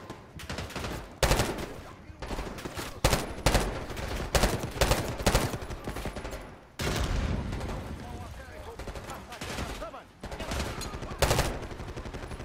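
Gunfire in Call of Duty Black Ops 6 comes in repeated loud bursts of automatic fire separated by short gaps, with booming impacts and game sound between them.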